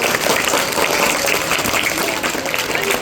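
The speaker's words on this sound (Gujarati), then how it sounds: "ચલો ભાઈ તાળીઓ ભાઈ" Schoolchildren applaud steadily through a classroom quiz, a dense, continuous round of clapping from a group, loud and close, with no talk over it.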